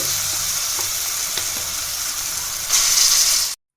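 Bottle gourd paste and chilies fry in a pan and get mixed, giving a loud, steady close sizzle that swells brighter near the end before cutting off abruptly.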